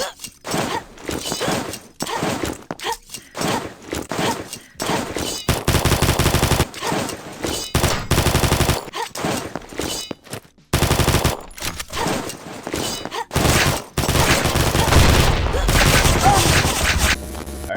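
Rapid automatic gunfire from the first-person shooter Combat Master, loud bursts of shots broken by short pauses and then longer sustained strings of fire, with no voices.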